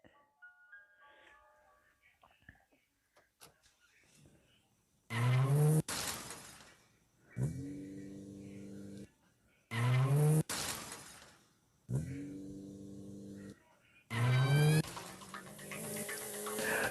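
A car in the horror video game Granny drives off with loud engine surges and tire screeches in several bursts separated by short pauses, preceded by quieter in-game clicks and sounds.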